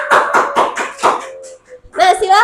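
A classroom group claps hands in a quick, rhythmic pattern of about six claps, joined by voices. Talk follows right after.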